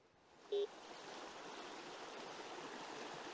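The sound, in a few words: mountain stream flowing in a Montana forest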